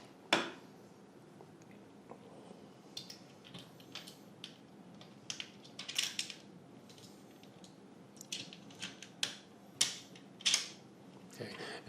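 Screws are tightened by hand while a modular prize wheel is assembled, giving quiet, close clicks, creaks and small ratcheting ticks in irregular bursts over a faint room background.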